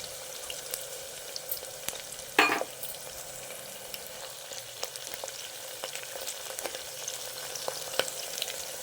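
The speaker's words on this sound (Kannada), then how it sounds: "ಇದೆಲ್ಲ ಹುರ್ಕೊಳ್ಳೋಣ ಇದರಲ್ಲೇ ಸ್ವಲ್ಪ ಚೆನ್ನಾಗಿ. ನೋಡಿ, ಶುಂಠಿ ಬೆಳ್ಳುಳ್ಳಿ ಹಾಕ್ತಾ ಇದ್ದೀನಿ" Ginger and garlic frying in a pan for a mint mutton gravy, a steady soft sizzle with faint stirring scrapes and one brief louder clatter near the start.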